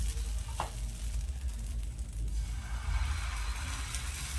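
Rice and jaggery batter for a traditional Malvani khaproli sizzles on a hot griddle over a low flame, a steady close crackling hiss with one brief louder tick partway through and no voices.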